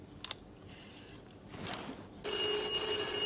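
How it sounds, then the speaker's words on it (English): A 1976 mobile telephone call rings through, heard as faint handset clicks and rustle, then a loud, sustained electric bell ring starting near the end and continuing steadily. "And it's ringing in the studio."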